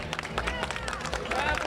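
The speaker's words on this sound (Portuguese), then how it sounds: "uma chuva de aplausos" Crowd clapping as volunteers receive donations at a charity festival in Cascavel, brisk uneven claps over lively chatter and cheering voices, busy and close.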